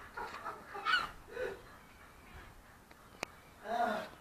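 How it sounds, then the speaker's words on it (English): Seagulls scatter after a cannon firing, giving a few scattered, moderately distant calls and squawks with quiet gaps between them, ending in a louder cry. "They're shitting themselves for miles around, the seagulls going everywhere."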